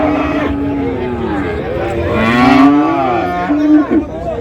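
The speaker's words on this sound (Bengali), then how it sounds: "দেখছিলাম এখানে সুন্দর একটি ফ্রিজিয়ানের সার।" A Friesian bull moos at a crowded cattle market in Ambari, with several long, loud low calls rising and falling over a few seconds while traders' voices carry in the background.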